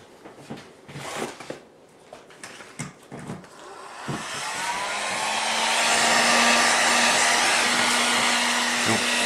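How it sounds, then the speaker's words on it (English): A few handling clicks and rustles precede a heat gun switching on; its airy blowing hum with a steady tonal whine swells and holds loud to the end, with no one speaking. "my heat gun keeps getting unplugged, or I'd have it done here"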